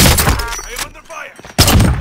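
Gunfire in the battle royale shooter Call of Duty Warzone, loud close bursts of shots at the start, a brief lull, then another heavy burst at the end, with a voice briefly underneath.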